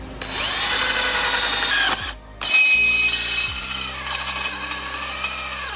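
A power drill drives screws into the stabilizers of a DIY racing sim frame, whining loudly up close. It stops briefly, then starts again and runs with a shifting pitch.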